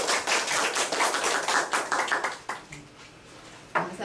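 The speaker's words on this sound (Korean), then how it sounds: "응원의 박수 한번 부탁드려요." An audience of seniors at an indoor smartphone class gives a round of applause, steady and fairly close, then tapering into scattered claps before one final burst.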